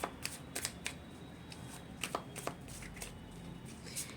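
Tarot cards are handled close up, with a series of crisp riffling snaps and soft slides in uneven bursts over low room hiss.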